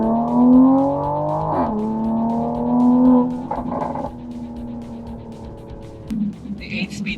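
A 2021 Toyota Supra A90 with an 8-speed automatic gearbox drives on the road. Its engine drones steadily, then the pitch drops sharply as the gearbox makes quick downshifts.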